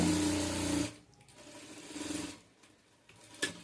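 A sewing machine stitches the seam of a palazzo pant with a pocket, whirring loudly up close in one steady run, then humming more quietly in a second run before a final click.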